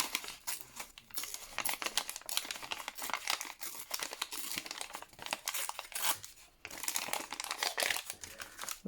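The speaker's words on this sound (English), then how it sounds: "lots of paper noise this morning" Sheets of paper crinkle and rustle continuously while a grungy lapbook is assembled, with loud close crackling that briefly pauses, and no speech.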